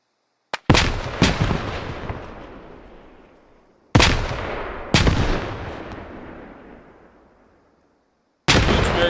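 Grenade blasts and gunfire from a multiplayer shooter game on the Fools Road map, heard as sharp, loud bangs that trail off into long rumbling decays. A pair lands near the start, another pair mid-clip and a final one at the end, with no talking.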